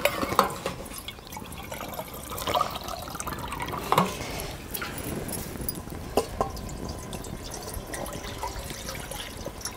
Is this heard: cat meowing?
no